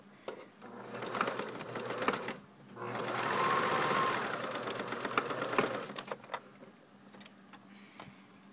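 A sewing machine stitches sweater cuffs in short bursts, a brief run, then a pause, then a longer steady run that trails off into light handling clicks; the machine is loud and close.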